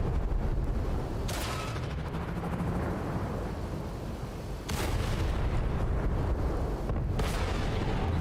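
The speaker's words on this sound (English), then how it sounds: "Alright, everyone stop shooting for a sec." Heavy tank cannon fire in World of Tanks on console: loud booming shots at about 1.3, 4.7 and 7.1 seconds over a constant roaring rumble of battle noise.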